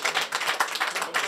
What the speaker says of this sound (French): Aujourd'hui, je pense qu'on peut s'applaudir